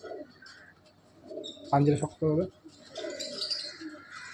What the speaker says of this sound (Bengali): এই হলো লাল রামপুরি পায়রা